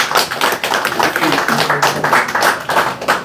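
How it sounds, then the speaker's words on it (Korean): Audience at a political party meeting in Wonju breaks into steady, dense applause, a continuous patter of many clapping hands filling the room for a few seconds. "우리 저 박수 한번 보내고 싶습니다."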